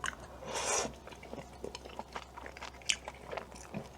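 Raw oysters eaten with chojang chili dipping sauce, heard as close, soft, wet chewing and biting with small crunches in an irregular rhythm.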